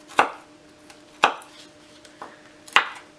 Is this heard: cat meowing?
no